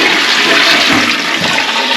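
A back-to-wall toilet pan being flushed, a loud, close rush of water pouring steadily throughout with no talk.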